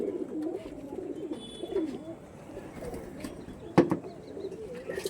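Racing pigeons cooing softly in a loft, with low repeated coos at a moderate distance and a few faint chirps and flutters.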